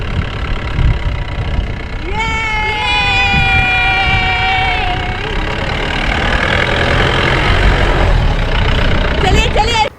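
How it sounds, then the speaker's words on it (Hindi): A Mahindra Thar jeep on a desert safari near Jaisalmer, its engine a steady rumble throughout while people talk over it and a brief whistling tone rises and falls early on. "हम लोग एंजॉय कर रहे हैं जीप सफारी, वो भी महिंद्रा थार में"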